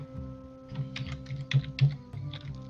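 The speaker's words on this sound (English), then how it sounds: "I hear furious typing" Fast, furious typing on a computer keyboard, a rapid patter of close key clicks with uneven bursts and a steady low hum beneath, no voices present.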